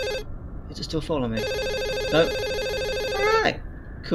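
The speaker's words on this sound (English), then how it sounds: "Oh, it's a phone call." A telephone rings in the indie horror video game My Strange Attic: a bright, sustained electronic ringtone running continuously at close range, with someone speaking briefly over it.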